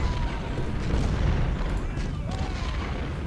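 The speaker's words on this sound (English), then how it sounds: "Down here, Otis and Nelson are getting hit hard by artillery." Artillery fire in the Civil War strategy game Ultimate General: Civil War during the Battle of Fredericksburg, a dense continuous rumble of booming cannon blasts with no clear gaps, loud and sustained throughout.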